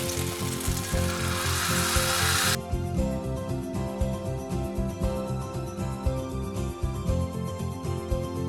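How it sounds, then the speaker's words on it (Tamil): Jalebi batter frying in hot oil, a dense, bright sizzle that is loud for the first few seconds and then settles into a softer, steady bubbling crackle, close by with no one speaking. "நான் வந்து இன்றைக்கி எண்ணெயில் ஃப்ரை பண்ணுறேன்."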